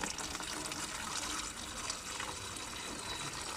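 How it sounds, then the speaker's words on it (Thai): Water gushes steadily from an opened tap, filling a watering can, a close, continuous rushing flow with no talk. "ของครูก็จะเปิดก๊อกน้ำนะคะเด็กๆค่อยๆเปิดนะคะ เปิดเข้าหาตัวเองเบาๆ"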